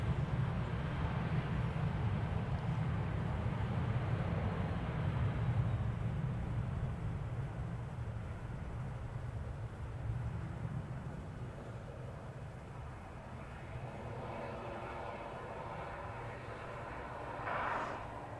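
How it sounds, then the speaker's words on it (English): A United Airbus A319 built in 1999 roars at DFW Airport, a loud low rumble up close that gradually fades into the distance, with a brief higher whine rising near the end. "It's an Airbus A319."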